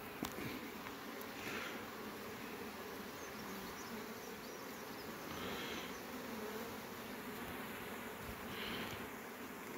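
Honeybees buzzing steadily around a beehive, a dense continuous drone of many insects close by, with occasional louder passes of single bees, no talk over it.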